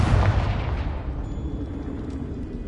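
A Confringo blasting spell goes off in the Hogwarts Legacy video game: a single loud, booming explosion hits at once, then rumbles and fades away over a couple of seconds.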